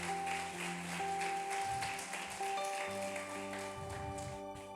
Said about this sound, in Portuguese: Aplauda o Senhor pela vida dos nossos visitantes